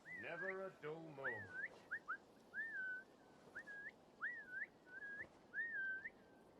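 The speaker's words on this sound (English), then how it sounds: "You gotta investigate the fucking whistling." A melodic whistled tune in Assassin's Creed Valhalla: repeated short rising-and-falling phrases with brief gaps, clear and steady, following a moment of voice at the start.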